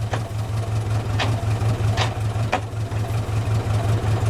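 Austin-Healey Frogeye Sprite engine running in gear with the car up in the air, a steady low rumbling idle with a regular pulsing beat and a few faint ticks, close by with no talk.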